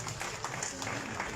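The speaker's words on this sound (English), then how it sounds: "A big round of applause to the President." An audience applauds after a speech at a press event in London, giving a steady, continuous patter of many hands clapping with a faint crowd murmur.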